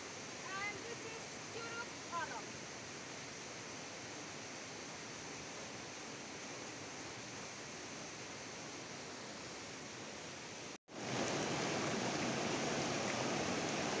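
Constant rushing roar of a waterfall and river at Curug Orok in Megamendung, Bogor, a dense broadband wash heard up close, briefly cut off near the end before returning even louder, with faint whistle-like tones at the start.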